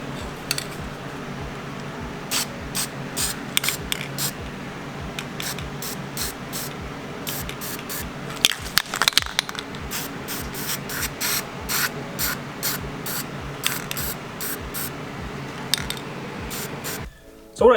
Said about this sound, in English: I just spray painted on the inside of this